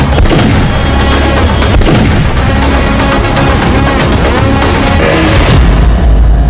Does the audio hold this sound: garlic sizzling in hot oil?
no